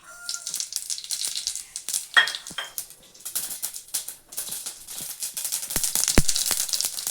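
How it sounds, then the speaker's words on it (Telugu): Mustard seeds hit a hot pan already used for frying dried red chilies and crackle with a rapid, uneven spatter of small pops. Occasional metal clinks of a utensil sound up close. "ఇప్పుడు అదే ప్యాన్లో కొద్దిగా ఆవాలు వేసుకుంటున్నాం"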